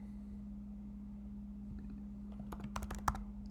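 A quick burst of computer keyboard typing in the final second, faint clicks over a steady low electrical hum, with nothing else before it.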